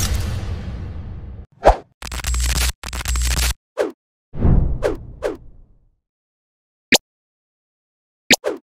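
Parcel wrapping for a Bonkyo FS200 dynamic microphone being unboxed: bursts of crinkly plastic and paper tearing, swishes and scratches, with pauses and a few sharp taps near the end, close and fairly loud, no talking.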